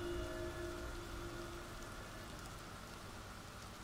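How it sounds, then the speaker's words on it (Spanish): Steady rain falls in the horror video game The Evil Within, a dense, even hiss of drops on surfaces that carries on unbroken at moderate loudness, with no voices over it. "El frescor de la lluvia te invade."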